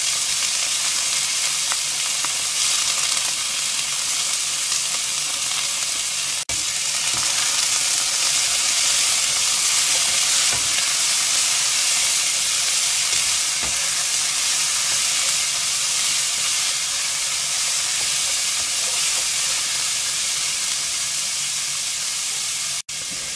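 Bean sprouts, carrot and fish strips stir-fried in a hot pan give a steady, loud sizzle and hiss that runs throughout, with a few sharp clicks of utensils against the pan and no talking.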